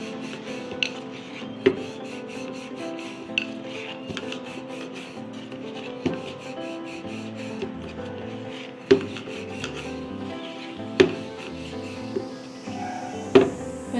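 Puri dough is rolled out on a board with a soft, repeated rubbing scrape, punctuated every second or two by light wooden knocks of the rolling pin.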